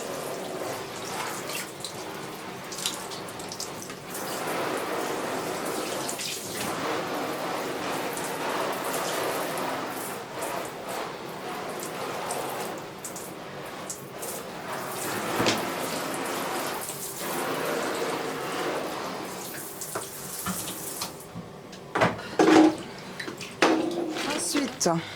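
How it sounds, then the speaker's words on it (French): Water runs steadily from a tap onto an old jacket being restored, a continuous splashing wash with brief louder spatters near the end. "on va commencer par mouiller le manteau"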